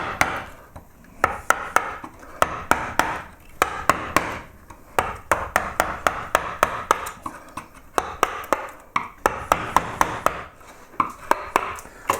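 A gouge cuts into wood while carving a yellow flag iris pierced relief, giving rapid, crisp knocks and chops in irregular bursts, close and clear, with short pauses between runs of strikes.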